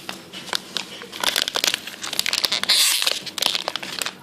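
A crinkly wrapper on small popping candies being torn open, loud and close, with dense crackling and crumpling bursts and a brief tearing rip midway, with no one talking.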